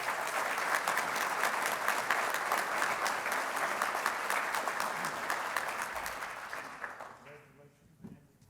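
Audience applause at the Tennessee Aviation Hall of Fame induction ceremony, sustained clapping filling the room for several seconds before tapering off, with a voice and some shuffling emerging at the end.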